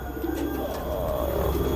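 High-flying racing pigeons coo at a loft. Soft, low cooing sits under a constant noisy background and runs briefly and continuously, with no talking.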